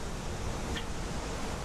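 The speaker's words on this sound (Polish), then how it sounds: "patrzcie, jakie dzisiaj są fale" Large ocean waves seen from the deck of the cruise ship Legend of the Seas make a steady, faint broadband wash of surf and wind with no distinct breaks.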